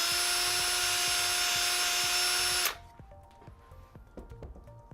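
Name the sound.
sandpaper drill cleaning out a golf driver hosel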